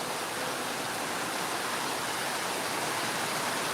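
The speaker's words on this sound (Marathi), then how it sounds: "खूप मोठा पाऊस सुरू आहे गेल्या दोन तासापासून" Very heavy, cloudburst-like rain pours down at Pirachi Kuroli as a dense, unbroken roaring hiss at an even level with no distinct thunderclaps.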